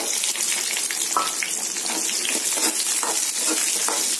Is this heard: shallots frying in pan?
yes